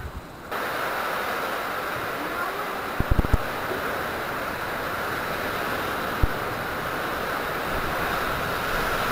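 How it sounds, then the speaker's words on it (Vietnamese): Strong, steady wind roars and buffets the microphone just before a storm on a rural roadside, a continuous broadband rush with a few brief thumps of gusts hitting the mic. "Gió ghê quá mọi người ạ."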